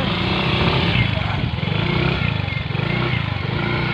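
A motorcycle engine rumbles and revs close by, steady and loud throughout, with people talking over it.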